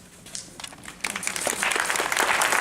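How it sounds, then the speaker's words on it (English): Applause from an audience, faint at first and then swelling into steady, dense clapping that fills the room. "so we can give you a round of applause"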